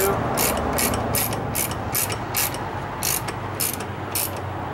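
A ratchet wrench snugging the intake manifold bolts on a Ford 4.6 2V V8 engine, a run of about nine quick evenly spaced clicking pulls close by over a faint background hum.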